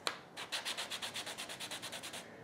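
Sandpaper rubbing over a woodturning blank to take off burrs, a quick opening stroke then about fifteen steady, rhythmic back-and-forth strokes, close and clear with no talk.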